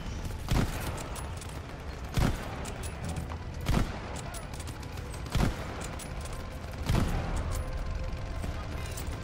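Gunshots ring out in Call of Duty: Vanguard, five or six loud single shots spaced about every second and a half over steady background battle noise, with a voice talking between them.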